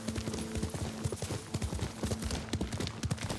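Horse hooves clopping in a steady galloping rhythm in the video game Ghost of Tsushima, moderately close and continuous, with faint ambient game sound beneath.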